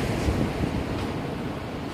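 Surf rolling onto Malaga beach on Christmas day, a steady wash of breaking waves mixed with wind buffeting the microphone, with no talk.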